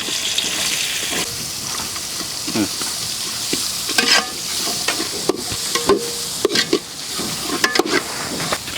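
Onions, pepper and cumin frying in oil in a village kitchen, a loud crackling sizzle broken by repeated scraping and stirring strokes and sharp clanks of a ladle against the pan.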